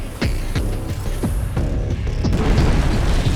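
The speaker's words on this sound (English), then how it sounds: "The Terrans are launching another nuclear missile." A Terran nuclear missile strike in StarCraft II: Heart of the Swarm, with a series of deep, loud booming blasts in quick succession followed by a rumbling, crackling roar that grows denser, no talking.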